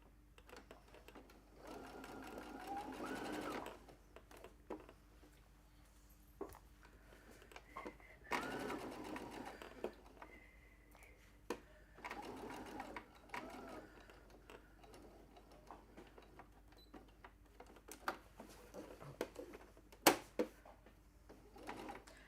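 A domestic sewing machine stitching a fabric bag runs in several short bursts of whirring separated by pauses, with small clicks and handling noises in between, quiet and close.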